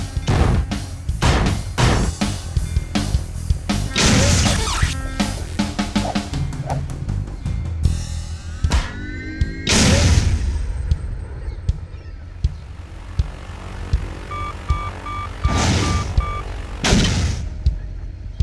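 Sci-fi battle gunfire effects: rapid bursts of loud, close shots and booming blasts, with a pause of sparser impacts and electronic tones midway before heavy shots resume.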